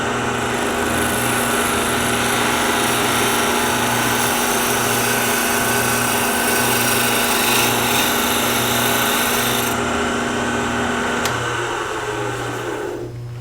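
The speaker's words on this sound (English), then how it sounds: "So this is the spindle roughing gouge, cut number 1." A wood lathe turns a workpiece while a spindle roughing gouge takes a light cut, producing a loud, steady motor whine with a rhythmic low pulsing that runs unbroken to the end, with no talking.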